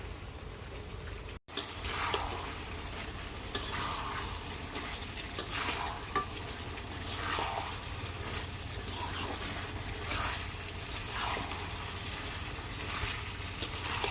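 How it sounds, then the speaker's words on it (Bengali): Ground cumin and garam masala spice pastes frying in a pan give a soft, continuous low sizzle, with intermittent faint scraping and stirring sounds throughout. "এই মশলাগুলো আমরা আগে যাক কিছুক্ষণ ভাজি, পরে শুকনো মশলা দিয়ে দিই।"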